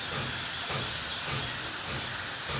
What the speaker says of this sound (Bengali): হয়ে গেছে কষানো, এবার জল দিতে হবে।